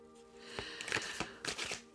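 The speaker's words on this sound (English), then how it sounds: "once you get the deck broken into, it is beautiful to shuffle." A tarot card deck being shuffled by hand, a close series of riffling card flicks and soft papery bursts, moderately quiet with no talking.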